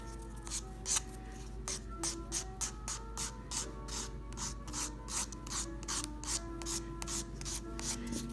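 A nail file rasps rhythmically across a fingernail to roughen it before gel is applied, steady repeated strokes close up over a low constant hum, with no talking.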